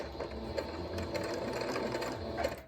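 A sewing machine stitches a fabric face mask along a metal nose form, running as a steady, close mechanical whir for the whole stretch with no talking.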